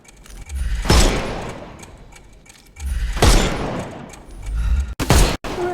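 Gunfire in Sherlock Holmes Chapter One rings out in a few loud, separate bursts, each with a sharp crack and a trailing echo, spaced a couple of seconds apart, with short quiet gaps between them.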